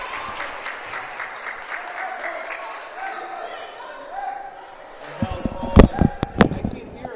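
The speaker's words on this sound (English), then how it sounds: "It's all loud crowd noise in my headset" A loud crowd roars at a high school basketball game between West Catholic and Loyalsock, with sharp spikes of cheering and ball bounces near the end, heard beneath a commentator's voice.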